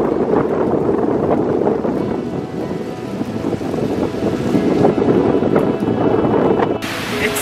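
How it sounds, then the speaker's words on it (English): Strong wind at a beach roars and buffets the microphone in a constant low rumble, with the wash of surf mixed in throughout. "Super windy."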